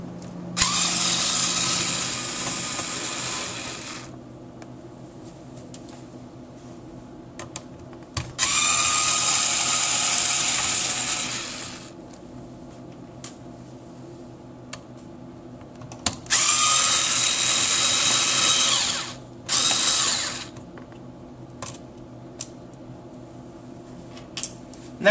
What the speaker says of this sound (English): Go ahead and begin by unscrewing the 3 screws in the front.